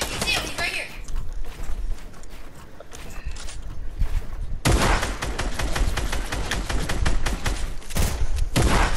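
Gunfire in the Fortnite video game crackles in rapid bursts, with dense sustained volleys through the second half, loud and close, while players talk over the shots.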